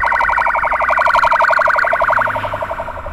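Ambulance siren during a building fire-evacuation drill, a loud, close, rapidly warbling wail that continues alone throughout.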